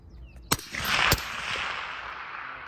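Two sharp, loud M110 sniper rifle shots about half a second apart, each trailing into a long rolling echo across an open US Army firing range during gun team practice.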